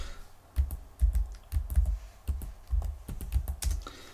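Computer keyboard keys are pressed in quick, uneven clusters of sharp clacks, close and fairly loud, during an Excel tutorial with no talking over them.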